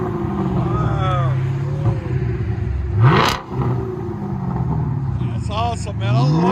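Chevy Camaro SS 6.2L V8 through a Flowmaster Outlaw exhaust with 5-inch tips: a rumbling idle, a sharp loud rev rising and dropping away near the middle, then another climb, with voices talking over the engine.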